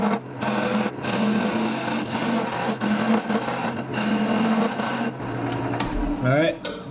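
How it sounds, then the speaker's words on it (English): A wood lathe runs steadily while a parting tool cuts into the wooden workpiece, a loud droning grind that cuts off near the end as the machine stops. "just going to keep on turning on and off the lathe until your candle fits"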